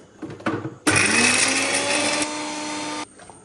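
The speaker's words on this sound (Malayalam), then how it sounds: "അതിനുശേഷം ഇതിനെ ഒന്ന് മിക്സിയിലിട്ട് നന്നായിട്ട് അടിച്ചെടുത്താൽ മതി." A mixer grinder whirs loudly as it grinds a chilli and turmeric masala paste, running steadily for about two seconds before cutting off, with faint kitchen clatter just before it starts.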